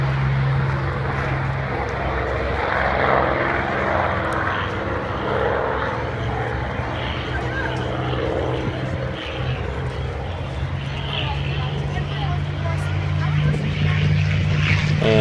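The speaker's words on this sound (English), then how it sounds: "First one was Spitfire, this one's Mustang." A Spitfire and a Mustang warbird fly past at a World War Two weekend event, a steady low propeller engine drone carrying throughout with crowd noise and people talking over it.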